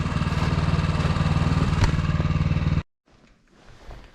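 A snow blower in wet snow, compared against a Honda HSS 928ATD, runs loud and close with a steady rumbling, clattering engine drone that stops abruptly, leaving faint muffled noise afterward.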